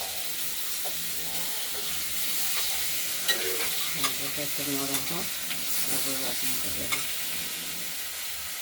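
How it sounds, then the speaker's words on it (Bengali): Potatoes fry in a pan with a constant close sizzle and hiss, broken by a few clinks and scrapes of a spatula stirring them. "দেখতে থাকুন ভাজা হচ্ছে"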